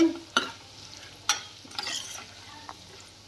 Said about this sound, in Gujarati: અને સારી રીતે આવી રીતે આમ હલાવવાનું છે